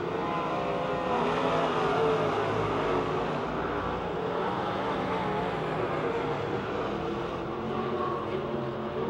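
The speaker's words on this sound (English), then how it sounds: "Vince Laboon in the 17L just ahead of the 65 of Tom Martinick" Race cars roaring around the oval at Pennsylvania Motor Speedway near Pittsburgh, a dense continuous engine din of several cars at once, loud and steady with no break for the whole stretch.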